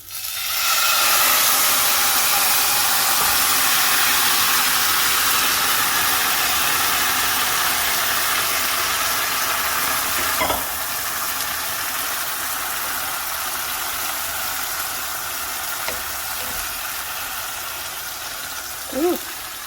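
Red chilaquiles sauce pours into a hot pan, giving a loud, steady hiss that lingers and slowly fades over about twenty seconds, with a couple of faint clinks near the end.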